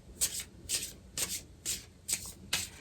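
Geisha-themed oracle wisdom cards being shuffled by hand, six soft riffling bursts in a steady rhythm, close and quiet with no talking.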